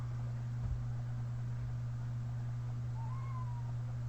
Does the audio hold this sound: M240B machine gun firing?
no